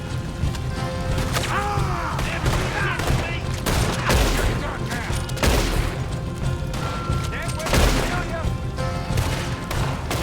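Carbine gunfire in Red Dead Redemption 2 crackles through a dense, continuous firefight, shots overlapping with booms and impacts, loud throughout, with voices mixed in.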